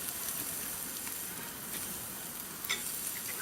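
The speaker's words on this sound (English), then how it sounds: "I'm going to put it in to a part of the barbecue where there are no flames" Marinated steak sizzles on a barbecue grate away from the flames, a soft, steady hiss and crackle with a small pop near the end.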